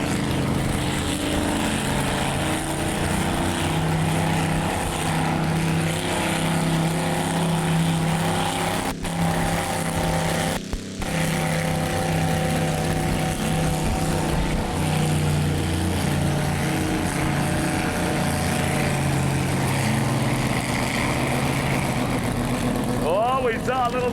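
A pulling tractor's engine roars steadily and loudly through a tractor pull run, with a constant heavy drone across the whole stretch and a brief dip partway through; an announcer talks over it.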